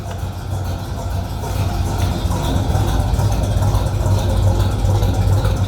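A 1968 Oldsmobile 442 engine idles with a low, steady rumble, growing slightly louder and holding even, close by with no talking.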